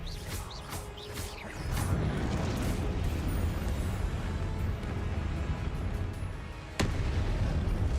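A Confringo spell blast in the Hogwarts Legacy video game: a rumbling burst of broadband noise that holds steady for several seconds, with a sharp sudden crack near the end, amid crackling magic effects.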